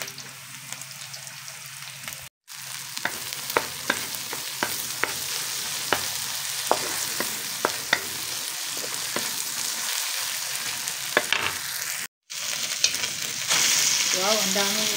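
Garlic and onion sauté in a pan for an ampalaya dish with ground pork, giving a steady, fairly close sizzle broken by sharp clicks and scrapes of stirring, and two brief dropouts.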